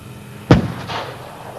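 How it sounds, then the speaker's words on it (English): Gunfire from a reconnaissance vehicle returning fire, a single loud close blast followed by a short rolling echo. "troop sergeant, returns fire from the second vehicle"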